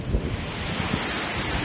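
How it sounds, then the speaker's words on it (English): A Scottish river in spate after heavy rain, rushing high up to its banks, gives a steady, dense roar of turbulent water, close and continuous, with wind buffeting the microphone and no voices. "this river is in spate. My goodness me, look at all the water coming down here."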